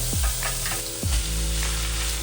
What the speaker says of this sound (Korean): 시금치가 숨이 좀 죽을 때까지 볶아줍니다.